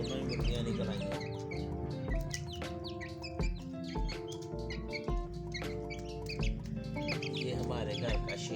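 Hens cluck close by in a lively household yard, with repeated short calls and rising squawks over a steady backdrop, and a few softer background sounds between them.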